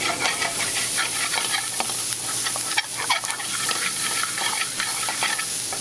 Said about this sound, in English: Okay, now the onions are cooking pretty good. Kind of scrape the bottom of the skillet.